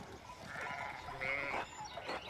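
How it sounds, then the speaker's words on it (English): Sheep bleat in the video game Pentiment, a couple of wavering calls over a quiet background with no talk. "we need to get your sheep under control"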